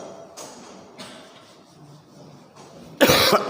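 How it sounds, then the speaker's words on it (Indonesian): A single loud, close cough bursts out near the end after a few quieter breathy throat sounds. "Maaf batuk-batuk ya."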